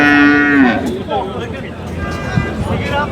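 A cow lets out a loud, close moo at a busy livestock bazaar in Sirdaryo, followed by the babble of traders and someone talking nearby.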